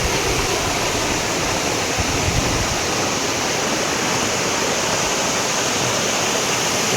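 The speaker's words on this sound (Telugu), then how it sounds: "వీడు వాటర్ ఫాల్సే." A waterfall roars as a dense, constant broadband rush, loud and close for the whole stretch, outdoors on a rainy day near Lonavala, with no voices.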